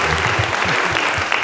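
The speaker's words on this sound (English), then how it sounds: "let's give them a bit of a round of applause" A presentation audience applauds the presenters: a loud, dense, steady wash of many hands clapping, close and continuous, with no voices standing out.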